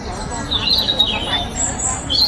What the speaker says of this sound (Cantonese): 大家聽唔聽到有啲雀仔叫聲啊？